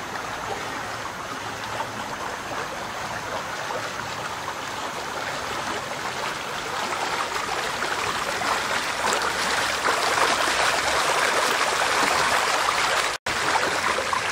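Spring water bubbling up into a stream in Lititz Springs Park, a steady close rushing and trickling that holds for the whole stretch, slightly louder toward the end.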